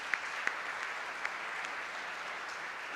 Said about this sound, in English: Let me start with a round of applause for our panelists and our advisory board members.